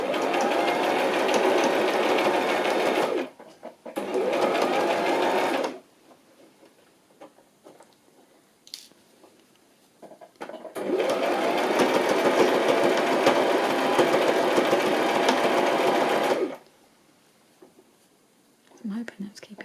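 An electric sewing machine back stitches a lace cover for a wedding journal, running in steady close whirring bursts of a few seconds each, separated by quiet pauses with faint handling sounds.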